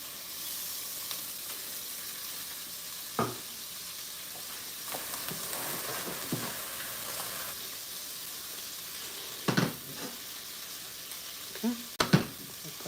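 Mixed vegetables fry in a pan with a steady low sizzle, broken by a few brief clanks of stirring, and no one speaks.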